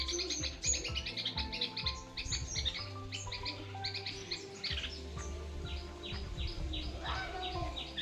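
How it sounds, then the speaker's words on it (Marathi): Three or four birds, including bulbuls, call at once in rural Konkan, overlapping chirps and tweets with a soft cooing underneath, lively and fairly close, with no voices. "तीन चार पक्षी आहेत तिथे मस्त ओरडतात"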